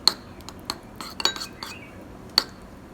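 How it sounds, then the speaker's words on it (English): Butter being mixed in a bowl for garlic butter, heard as a series of sharp, close utensil clinks and taps against the bowl at an irregular rhythm, with quieter scraping between them and no talking. "Now I am going to make the garlic butter. Just mix the butter well."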